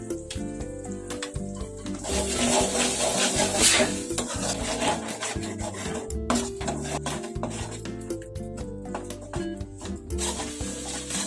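A spoon scrapes and rubs continuously through ginger pickle in a pan over medium heat, a steady close-up rasping with no talking.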